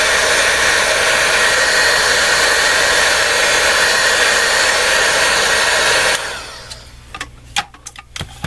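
A heat gun melting embossing powder on a handmade Christmas card blows a loud, steady roaring hiss for about six seconds, then cuts off, leaving quiet room sounds and a few faint clicks.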